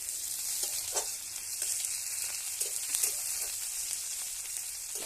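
Onion and panch phoron spices sizzling in hot oil, a steady bright crackle with occasional pops, fairly quiet and heard on its own without any talk.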